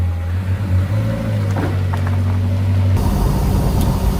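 A McLaren supercar driving in limp mode with warning lights on and a flat tyre indicated, its engine giving a steady low droning hum from inside the cabin that shifts into rougher rumbling road noise partway through.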